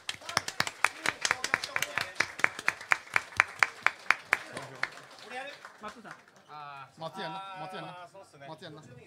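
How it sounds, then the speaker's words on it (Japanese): Audience applause for the winning team at a Super Street Fighter II X 3-on-3 team battle finals, a burst of loud, rhythmic clapping that fades after a few seconds into someone speaking over the crowd. "もう一度大きな拍手お願いします。"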